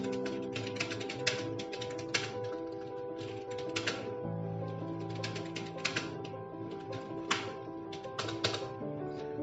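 Typing on a computer keyboard while entering a narration in Tally ERP 9 accounting software, with a steady run of quick, close key taps and occasional louder strokes over a faint background hum.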